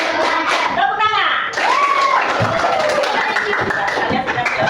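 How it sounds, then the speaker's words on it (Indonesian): Children in a classroom clapping their hands in a rhythmic clapping routine, bright claps mixed with chatter, a teacher's voice and a little laughter nearby. "tepuk tangan"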